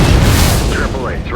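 A heavy explosion from the drone-combat video game Shadow Strike, a loud, sustained rumbling boom that fills the whole clip, with a voice speaking over it.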